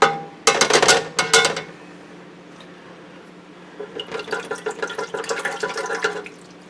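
A honey-coated spoon rinsed under running water, with a couple of short bursts of splashing tap water, a pause, then a longer stretch of uneven spattering and dripping close by.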